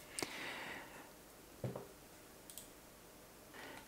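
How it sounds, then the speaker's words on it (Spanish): Computer mouse clicks on a Windows 11 PC, a few sharp, quiet isolated clicks spaced apart against a near-silent background. "si hago un clic en el desplegable o en la flecha hacia abajo"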